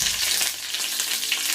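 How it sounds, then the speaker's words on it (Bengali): Panch phoron and dried red chillies hitting hot oil, a constant bright hiss and crackle up close, steady throughout with no talking. "তেলটা গরম হওয়ার পর আমি এখন এটাতে পাঁচফোড়নটা দিয়ে দিচ্ছি, 3টা লাল মরিচ শুকনো"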